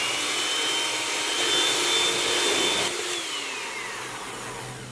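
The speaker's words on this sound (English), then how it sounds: "just using a hand mixer, we're going to mix this until it's nice and frothy" A hand mixer whips three egg whites until frothy, a steady loud whirring drone that drops slightly in pitch and level partway through as the beaters work the bowl.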